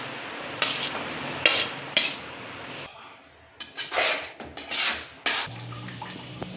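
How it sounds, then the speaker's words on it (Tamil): Tamarind rice being stirred and tempered in a pan, with several scraping, clattering bursts of a spoon against the pan in an uneven rhythm, close and fairly loud, separated by brief quieter gaps. "இப்போ நம்ம சாப்பாடு போட்டு தாளிச்சுக்கலாங்க"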